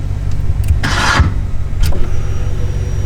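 A car, getting a new motor as part of a muscle car build, rumbles low and steady throughout, with brief louder bursts of cranking or starting noise in the first half and no talking.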